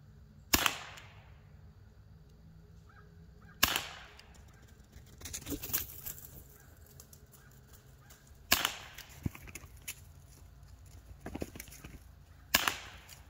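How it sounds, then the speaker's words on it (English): A chrome Crosman CK92 air pistol fires during a 12-yard standing accuracy test, giving four sharp, well-spaced cracks several seconds apart, with faint handling clicks and rustle between shots. "I'm gonna do a 12 yard accuracy test standing to kind of give you an idea of the accuracy of this pistol"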